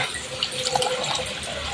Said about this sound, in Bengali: এখন টকের জন্য আমি ঝোলের পানি দিয়ে দিলাম